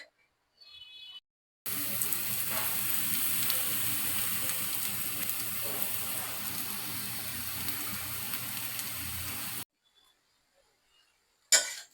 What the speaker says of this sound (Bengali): এখন আমি দিয়ে দিব পোলাও চালগুলো। একসাথে আরেকটু ভেজে নিব।